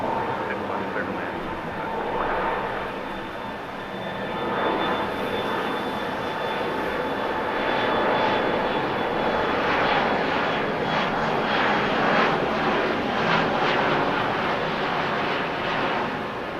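An airplane approaches to land at LAX during a storm, its engine roar a steady, loud, continuous drone with a faint whine, sustained throughout with no speech over it.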